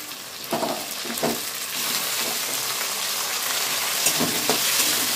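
Tomatoes fry in hot oil in a home kitchen pan, a close, steady sizzle that swells after they drop in, with a few stirring scrapes and no speech.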